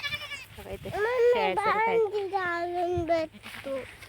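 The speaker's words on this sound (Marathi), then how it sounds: "इकडे आमच्या शेळ्या चरत आहेत" Several grazing goats bleat in wavering, drawn-out calls, close by, one after another over a quiet background.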